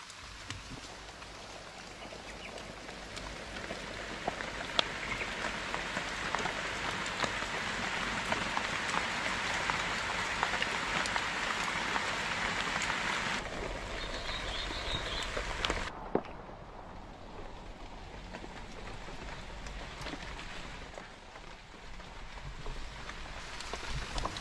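Steady rain falls in a remote island jungle, a dense, continuous patter of drops on leaves and surfaces. The hiss thins and softens toward the end.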